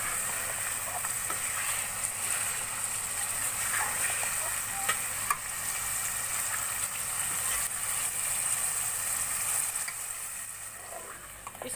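Beef masala boti frying over a high flame, a steady broadband sizzle and hiss running throughout with occasional faint pops, close and continuous with no voices.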